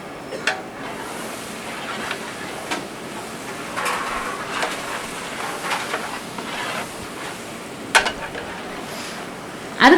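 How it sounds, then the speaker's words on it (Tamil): Onions and tomatoes sautéing in a huge biryani pot for 150 children: a low steady sizzle with occasional scraping and knocks of a large ladle, a louder clatter near the end, no clear speech. "நல்லா வெங்காயம் வதங்கினதுக்கப்புறம் நம்ம தக்காளியை கொட்டி நல்லா தக்காளியுமே நல்லா வதக்கிற"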